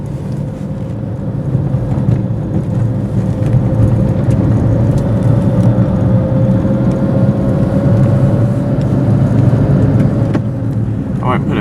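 A Fiat Cinquecento car engine, freshly fitted in an engine swap, drones loudly and steadily as it is brought up to speed, its tone climbing gradually before easing off near the end.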